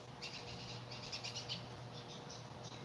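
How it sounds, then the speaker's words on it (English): Birds squabble outdoors in a series of faint, rapid chirps and squeaks over a steady low background hum, with no one talking. "there's a bird fight"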